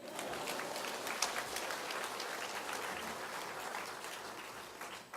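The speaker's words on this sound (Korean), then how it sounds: "이럴 때 수준 있는 교회는 박수를 칩니다" A church congregation applauds during a sermon, a steady wash of many hands clapping at once, heard faint and somewhat distant, with no speech over it.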